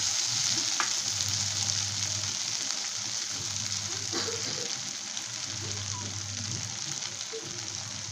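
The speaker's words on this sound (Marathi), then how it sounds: "त्यामध्ये आपण शेंगदाण्याचं तूप टाकलेलं आहे दोन मिनट हलवन घेना आहोत" Capsicum and peanut curry sizzles steadily in peanut oil in a pan, with stirring scrapes and soft clatter breaking through the constant close-up frying hiss.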